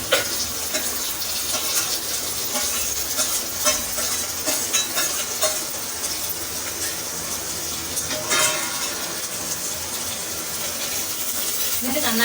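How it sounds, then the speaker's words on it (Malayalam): Chopped beans, carrot, onion, tomato and green peas go into a hot pan for tomato rice, producing a continuous crackling sizzle with intermittent stirring scrapes and a brief faint voice, close and fairly loud. "അപ്പോൾ നമുക്കിതൊക്കെ ഒന്ന് ആഡ് ചെയ്ത് കൊടുക്കാം."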